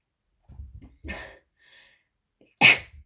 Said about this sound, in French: je suis désolée parce que je vais éternuer